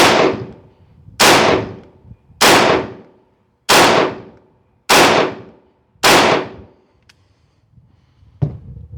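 Six loud, sharp shots from a T50 Extreme 9mm airgun fired at a target, spaced roughly a second apart, each with a quick decaying tail, followed by a faint click near the end.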